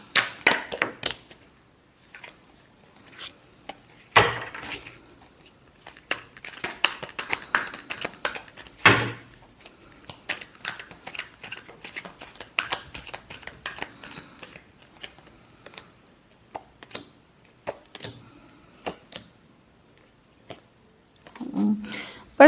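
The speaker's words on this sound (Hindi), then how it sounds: "Last shuffle." Tarot cards are shuffled in quick bursts of crisp riffling and slapping taps, close and irregular, with pauses between bursts and a voice speaking intermittently.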